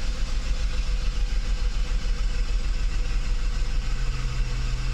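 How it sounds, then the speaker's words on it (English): Mercedes 600SL engine idling close by, a steady deep rumble with a slight shift in tone near the end; no talking. "Starts right up and throttles seem to work just fine."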